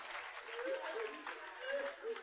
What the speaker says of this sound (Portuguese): vamos dar uma salva de palmas para a Bena